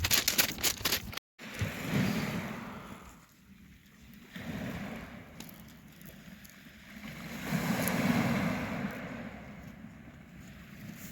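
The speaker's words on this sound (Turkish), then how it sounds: "denizin sesi çok güzel." Black Sea waves washing onto a pebble beach at Batumi, a steady broad rush that swells and recedes in slow surges, with some wind noise.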